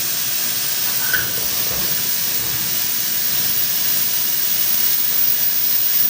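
Steady, forceful pressure cooker steam hissing continues throughout, a broad rushing noise at moderate level with no voices, while a meat curry cooks.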